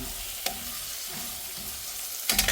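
Tomatoes frying in a pan for keema curry give a steady, close sizzle, with a few stirring scrapes and clatters around the middle and near the end.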